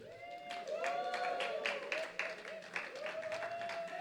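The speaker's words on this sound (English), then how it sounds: "You can clap now." An audience claps to welcome a performer at an event: steady, moderately loud patter of many hands across the whole stretch, with sustained tonal voices or cheering rising and falling over it.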